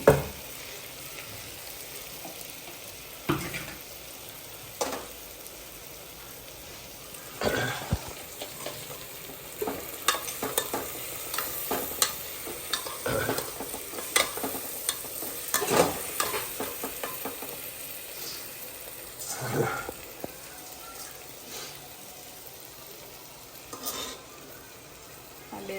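Ghee sizzling in a pan while a utensil stirs and clinks against the metal, steady frying hiss with intermittent scraping and clatter over about half a minute, close and alone.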